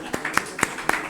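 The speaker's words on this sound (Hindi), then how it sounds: "जोरदार तालियों के साथ" Hands clap in a steady rhythm, about five sharp claps spaced evenly, fairly faint and from a small group rather than a full crowd, welcoming a guest at a Hindi Day ceremony.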